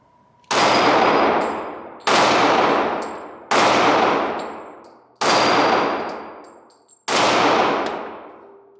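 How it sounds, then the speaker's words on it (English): A Glock 27 Gen 5 .40 caliber compact pistol fired five times at an even, unhurried pace, each loud, sharp report ringing out and decaying over about a second. "All right, let's do some more shooting."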